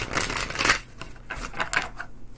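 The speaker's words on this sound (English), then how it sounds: "One quick shuffle." Tarot cards get one quick shuffle during a reading, a short burst of crisp riffling and slapping paper ticks, close and alone.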